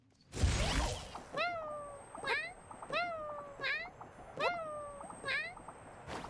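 A cat meows in a video game, about eight short rising-falling calls in a steady, evenly spaced series, fairly close and clear. A brief thump comes just before the first meow.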